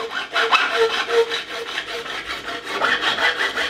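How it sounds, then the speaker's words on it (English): A curved file bevels the fret edges on a 2008 Fender Telecaster during a fret level, making rapid, rhythmic rasping strokes that sound close and continuous with no talk. "Coming in with the curved file, and this one helps me to get that semicircle on the edge on the bevels here."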